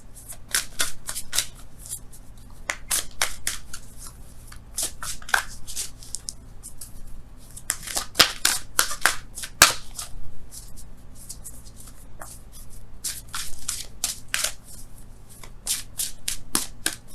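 Oracle cards are shuffled and drawn by hand in a tarot reading, giving repeated crisp riffling and flicking bursts in irregular clusters, close and fairly loud, with no voice over them.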